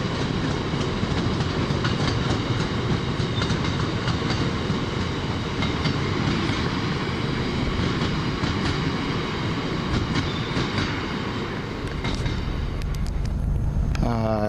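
An East Midlands passenger train runs along the rails with a loud, continuous rumble and rhythmic clickety-clack, heard from onboard, with a brief rising squeal near the end.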